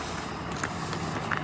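A large vehicle drives along a snowy road, giving off a steady low rumble of engine and road noise with faint brief higher tones mixed in.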